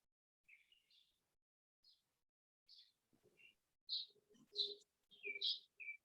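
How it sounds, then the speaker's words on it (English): Outdoor birdsong: scattered chirps and short whistled calls, some near and some farther off, with soft lower cooing notes joining toward the end, quiet overall and with no talking. "paying attention to the birds that we hear, to any other animals that might be floating around."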